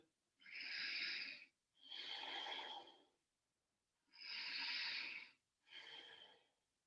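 Slow, deep breaths during a yoga session with backbends, two long inhale–exhale cycles heard close and quiet, each breath a soft airy rush separated by short pauses.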